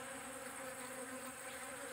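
Stingless kelulut bees arriving at broken honey pots, a close, steady buzzing hum of several insects with no pauses and no talk.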